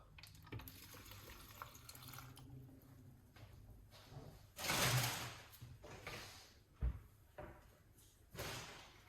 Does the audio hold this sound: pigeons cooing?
no